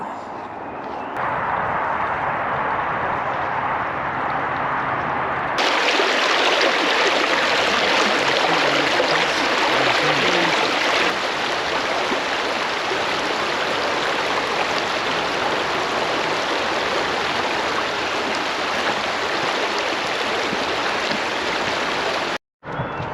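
A steady, continuous rush of river water flowing close by along the Darent Valley Path, broadband and unchanging for the whole stretch, with no talk over it.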